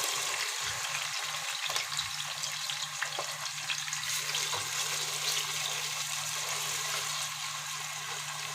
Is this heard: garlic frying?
yes